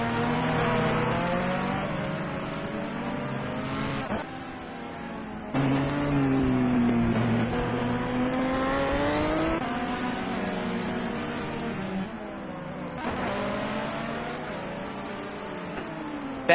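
Racing engines from a Corvette GT1 and other cars in a simulated endurance race at Fuji scream through rising and falling gear changes, with several loud passes and abrupt shifts in pitch.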